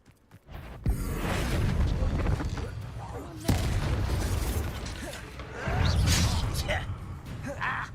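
Bombarda explosion spell in Hogwarts Legacy, heavy booming blasts and rumbling debris repeating over several seconds, loud and close, with voices talking over them.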